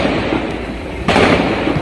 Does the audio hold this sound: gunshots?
yes